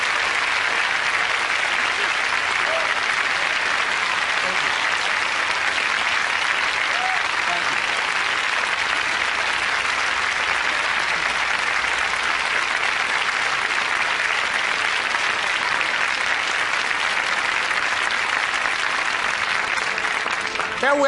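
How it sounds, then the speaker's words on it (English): An audience applauds Rosa Parks at a motivational speaking event. The clapping is dense and steady, with a full crowd sound that holds at an even level for about twenty seconds and never breaks. "Let's give Mrs. Rosa Parks a round of applause"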